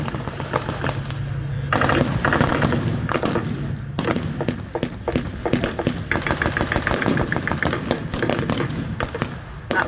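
Old WW2 battle footage carries rapid bursts of machine-gun and rifle fire, dense and continuous, over a low engine-like rumble.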